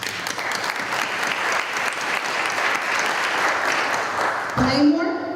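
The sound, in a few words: applause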